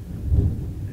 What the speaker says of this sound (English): Oh, thunder.